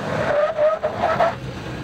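A 5,200-pound Ford F-150 pickup stopping hard on disc brakes with anti-lock, tires squealing in short pulsing chirps over a brief, loud skid.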